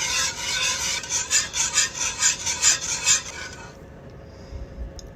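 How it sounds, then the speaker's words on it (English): Whisk beating milk into a thick mushroom and cheese sauce in a pot, a close, loud rhythmic scraping of about eight quick strokes that stops abruptly near the end. "we'll just keep adding milk and add some more milk and continue to whisk"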